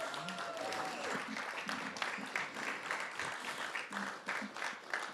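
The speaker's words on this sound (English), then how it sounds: "will you please stand up for a round of applause to be recognized for your efforts in our community?" A crowd at the Magic City Classic press announcement gives a round of applause, a fairly quiet, sustained spread of clapping mixed with cheers and overlapping voices.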